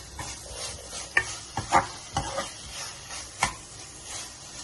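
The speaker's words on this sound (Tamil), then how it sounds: "இஞ்சி பூண்டோட பச்சை வாசம் போற வரைக்கும் நல்லா வதக்கிக்கலாம்." Ginger and garlic sauté in a pan for veg kurma, giving a soft sizzle with a few sharp stirring scrapes and clicks, close and fairly quiet.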